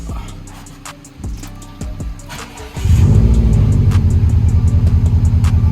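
A Subaru STI's engine cranks over and catches, settling into a loud, steady idle rumble after a few seconds of quieter clicks and shuffling inside the car.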